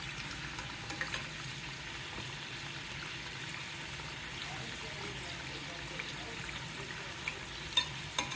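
Karjikai pastries frying in hot oil as they are slowly flipped, giving a steady, close sizzle with light stirring and bubbling throughout, a few soft clicks near the end, and no talking.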